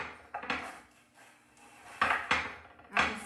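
A knife cuts through a crispy homemade veggie pizza crust, giving several sharp crunchy cracks and scraping bursts close up, irregularly spaced, with no talking.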